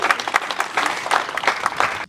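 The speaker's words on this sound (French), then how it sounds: "je pense que ça mérite beaucoup plus d'applaudissements" Applause from the audience at an award ceremony honoring years of rural development service in Burkina Faso, a dense, steady patter of many hands clapping close by for about two seconds, with no voices heard.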